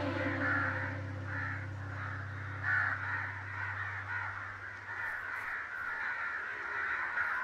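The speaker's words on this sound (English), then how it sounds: "There's a giant black cloud that sounds like a bird." Bird-like cawing comes from a giant black cloud in the game Only If. Repeated harsh caws sound at a moderate distance over a steady low droning hum, fairly quiet overall, with no one talking.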